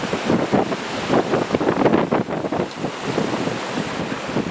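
Strong gusts of wind buffet a newly fitted awning outdoors, a continuous rushing roar with fluctuating surges and heavy microphone buffeting, no voices.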